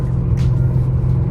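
A Mercedes E55 held in a hard pull, its engine a loud, steady low rumble that stays up close for a brief stretch.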